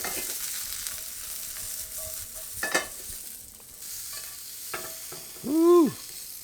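Minced garlic sizzles in a pan with a little kosher salt, a soft crackling hiss with a few clinks and scrapes, ending in a brief rising-and-falling whistle-like tone near the end.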